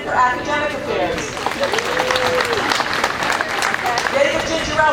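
Audience applause at a college first-year convocation, a steady wash of clapping across the whole stretch with crowd murmur and raised voices mixed in.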